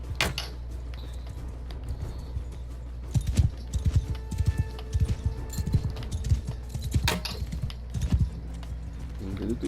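Horse hooves clip-clopping in the video game Mount & Blade II: Bannerlord, irregular soft thuds in bursts over a low steady background, with keyboard-like clicks and occasional brief sharp sounds.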